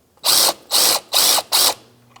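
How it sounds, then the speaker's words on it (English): A ratchet on a 12mm socket loosens the alternator belt tensioner of a 2004-2009 Subaru Outback, giving four quick, loud, buzzing clicks in an even rhythm, close by and without talk. "Now we're going to loosen up the alternator belt tensioner, 12mm socket"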